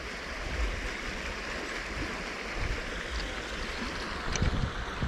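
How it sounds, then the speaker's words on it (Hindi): A stream rushes and gurgles steadily at a nala in Raebareli, Uttar Pradesh, a continuous broad wash of water noise with light wind and a few faint knocks. "ये देखिए ये पानी की आवाज़ देखिए खल खल की"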